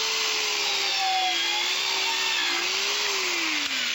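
Counter-rotating saw with ruler and laser guide plunge-cutting into wood trim for flooring and a threshold, a loud steady whining buzz with shifting pitch that runs unbroken for the whole stretch, close and alone.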